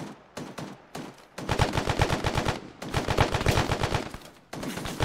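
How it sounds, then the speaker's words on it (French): Gunfire from outside, with rapid bursts of automatic shots in rhythmic volleys, loud and fairly close, broken by brief pauses. "Ça tire de l'extérieur"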